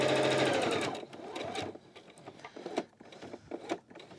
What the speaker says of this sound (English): And now I'll sew off the corner.